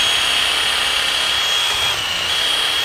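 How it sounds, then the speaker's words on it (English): Loud, steady whine of a power drill with a spade bit boring a pilot hole through wood, running continuously at close range with no pauses. "as you continue drilling"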